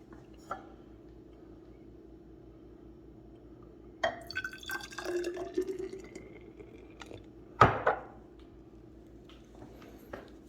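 Stella beer mixed with Heinz sauce is poured from a bottle over tri-tip in a crock pot: brief glugging and splashing bursts against a quiet background, with a few isolated clinks.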